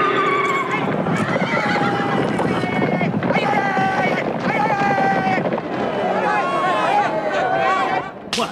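Horses whinny loudly over galloping hooves during a Gaulish four-horse chariot race in a circus arena, with busy music and crowd noise throughout and brief voices mixed in.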